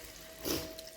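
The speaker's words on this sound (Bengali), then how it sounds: "এবার গরম জলটা দিয়ে দেব," Hot water poured from a vessel into a pan of katla fish curry, a short soft splash and trickle lasting about a second.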